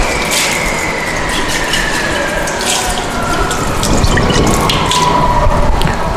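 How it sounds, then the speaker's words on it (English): Running water splashes and trickles into a glass conical flask being washed, with a rising pitch as it fills and swirls, close and steady, no talking. "So to continue this, you have to wash your conical flask"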